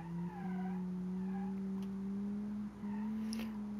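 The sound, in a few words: SUV driving on test track in Automation video game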